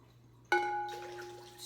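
Water pours into a measuring container with a sudden splash onset, then a steady ringing, rising fill tone as the vessel fills, fairly quiet and close, with no talking.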